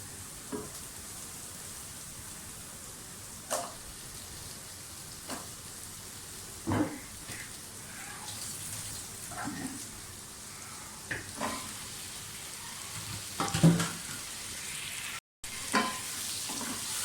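Potatoes sizzle steadily in a pan with ground spices and dried fenugreek (kasoori methi), with occasional scrapes and knocks from stirring breaking through the continuous frying hiss.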